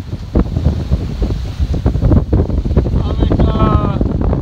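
Strong wind of about 25 knots buffets a sailboat running at nearly 6 knots under a small genoa at sea, with steady roaring gusts, rushing water and rattling close to the microphone.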